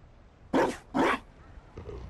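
A dog barks in the Dragon Age Inquisition video game, two sharp close barks in quick succession followed by a softer, shorter yip.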